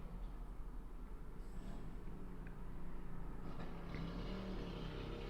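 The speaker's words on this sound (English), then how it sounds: "I apologize in advance for the street noise." A steady rumble of street traffic in the distance on a Thursday evening, with vehicles passing and a faint engine swelling midway; no talking.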